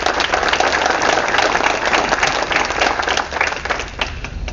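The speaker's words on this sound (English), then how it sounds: "I think that you all deserve to applaud yourselves right now" An audience at a fair housing center breakfast event applauds, a steady, dense wash of many hands clapping that holds loud throughout.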